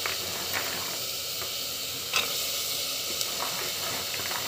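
Brinjal curry base with spices being stirred and sautéed in a pan, a steady broadband sizzle with occasional soft scrapes of a spoon, close and continuous with no talking.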